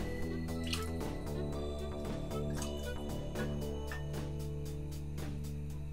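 Dashi and soy sauce poured into a pan during a miso-based dish, heard as a run of rapid liquid drips and splashes with a steady bubbling sizzle beneath, close and moderately loud.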